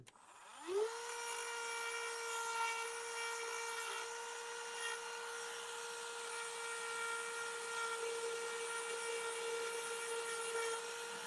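A power tool spins up and holds a steady high whine while grinding down the axle of a mini RC crawler, a continuous close tone with no voices.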